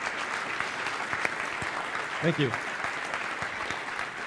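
Applause from a conference audience at the end of a technical talk, a steady broad wash of clapping throughout, with a brief spoken voice in the middle.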